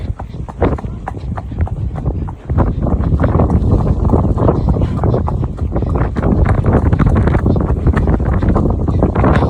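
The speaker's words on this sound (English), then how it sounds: "it's ultra windy out here" Loud, gusty wind buffets the microphone in a constant rough roar outdoors, with rhythmic hoof-like clopping of a horse being ridden and a voice underneath.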